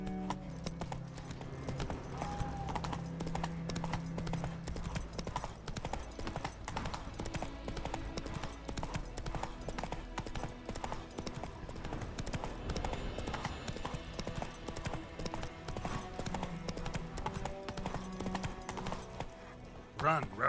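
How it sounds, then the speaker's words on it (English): Horse hooves trotting in The Witcher 3 game, a steady rhythmic clip-clop running throughout at moderate level under music and occasional talk. "Run, Roach."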